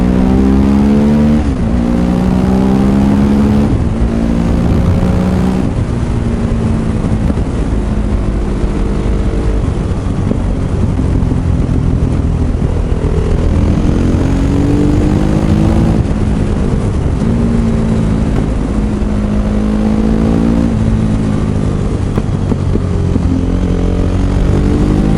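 Supermoto motorcycle accelerating hard on an open road at speed, its engine revving up through the gears with rising and falling pitch, loud and close throughout, with heavy wind rumble and no talking.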